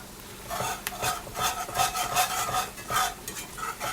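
Gravy being stirred in a pan for smothered chicken wings, a spoon scraping and swishing in steady repeated strokes over a soft sizzle, close and fairly loud with no talking.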